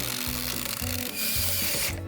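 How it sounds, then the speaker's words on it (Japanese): A Japanese home-extension build, where an impact driver fitted with an old, dull drill bit bores a hole, whirring loudly and steadily with rapid rattling impact pulses and uneven bursts as the bit bites. "インパクトでも霧さえ切れれば十分開けることできるんですね"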